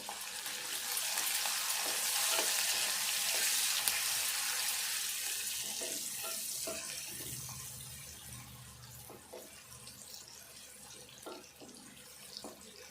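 Onions and curry leaves fry in a pan for Telangana-style potato pulusu, a steady hiss of sizzling oil running throughout with small scattered crackles, loudest early and easing slightly toward the end.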